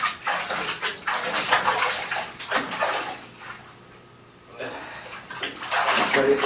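Water splashing and sloshing in a bathtub as soap is rinsed off a cat, with running water in bursts, a brief quieter gap in the middle, and a person's voice talking over it.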